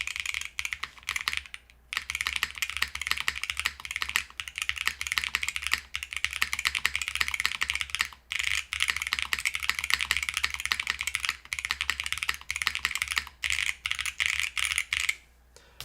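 Fast, continuous typing on a Double Schema M60 mechanical keyboard with stock-lubed switches: dense, close clacking keystrokes in steady bursts, broken by a few brief pauses.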